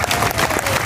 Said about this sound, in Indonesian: tepuk tangan untuk Pak Bupati yang berhasil